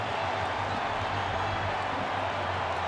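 Stadium crowd at a 2006 NFL game between Baltimore and Kansas City: a steady, dense roar of cheering fans that holds at a constant level throughout, with no single voice standing out.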